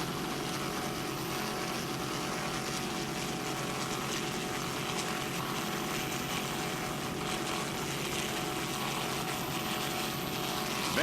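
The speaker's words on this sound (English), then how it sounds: "John, the owner of this 27-foot Donzi Vendetta F-120." A 27-foot Donzi Vendetta F-120 powerboat racing in an offshore grand prix gives a steady, loud, continuous engine roar that holds without a break for about eleven seconds, with no talking over it.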